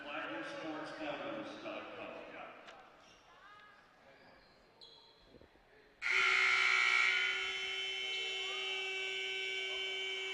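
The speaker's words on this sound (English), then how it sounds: "That's not good. Buzzer's stuck." A stuck buzzer in a college basketball gym suddenly blares and keeps sounding as one loud, continuous electronic tone, following crowd noise and game sounds from the arena.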